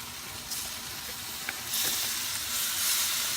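Beef goes into a hot pan with tomatoes already cooking, raising a broad hissing sizzle that swells louder partway through and carries on steadily, with no talking.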